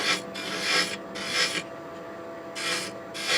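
A skew chisel scrapes and rasps against spinning wood on a lathe in repeated strokes, each pass a few fractions of a second, with brief pauses between cuts.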